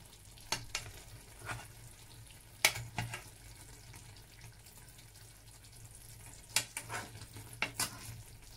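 Cassava and sausages sizzle quietly in a pan on low heat, a soft steady frying hiss broken by a few sharp clinks and stirring noises.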